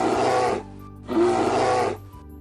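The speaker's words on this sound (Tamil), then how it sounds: "கரடி கத்தும்" A bear gives two loud, deep, raspy calls separated by a short pause, each lasting about half a second, close and with no other sounds.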